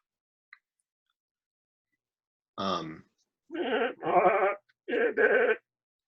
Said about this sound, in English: You hear more goats from inside.